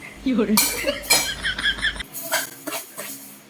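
A stainless steel spoon scrapes and clinks against a pot in several close, harsh strokes, with a little voice mixed in.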